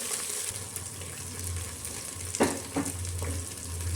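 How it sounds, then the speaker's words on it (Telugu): Peas, onions and ginger-garlic paste frying in a pan for bagara rice, a steady soft sizzle with a few louder stirring scrapes and clinks midway, close and continuous with no talk. "బఠానీలు, ఉల్లిపాయలు ఇవన్నీ మంచిగా కలిపి ఫ్రై అయిన తర్వాత అల్లం వెల్లుల్లి పేస్ట్ కూడా మంచిగా ఫ్రై అయిన తర్వాత"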